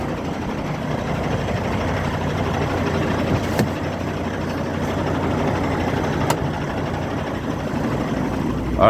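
A truck engine idles steadily at a trucking yard, a constant low rumble with faint mid-range hum running unchanged throughout, close and moderately loud with no speech.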